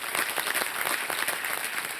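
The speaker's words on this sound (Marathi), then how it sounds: "जरा जोरदार टाळ्या" Audience clapping at a Mangalagaur celebration, a steady dense patter of many hands filling the room, moderately loud and continuous without pause.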